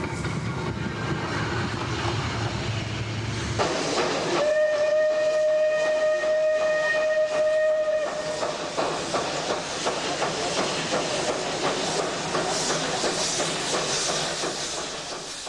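Austrian steam locomotive No. 56, with an old Austrian spark-arresting chimney and now hauling special excursion trains, rumbles and hisses. A sustained, steady whistle blast sounds in the middle before the rolling noise continues.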